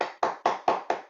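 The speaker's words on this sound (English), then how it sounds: "can we please give her a big round of applause?" Six evenly spaced, sharp claps ring out close and clear at a steady rhythm, each with a brief decay, marking applause for a speaker at a Toastmasters club meeting.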